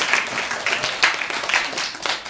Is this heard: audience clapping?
yes